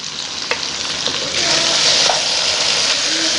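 Beef korma with yogurt and vinegar stirred in a hot pot, a loud wet sizzle and bubbling hiss running continuously with a few soft spoon scrapes.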